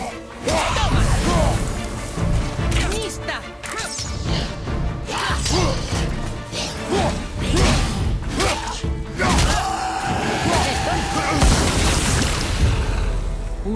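Explosion in the action video game God of War, heard as dense booming crashes and heavy thuds with whooshes amid continuous loud combat noise throughout.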